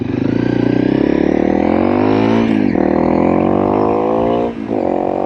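A heavily modified Honda CRF 300 dirt bike engine revs loudly up and down, pitch rising then dipping twice at gear shifts, running continuously close by.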